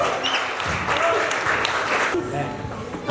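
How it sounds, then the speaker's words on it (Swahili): A church congregation claps together at a wedding anniversary service, a dense, steady applause heard close over the whole stretch, with voices mixed in. "Tumsikie Bwana Yesu makofi."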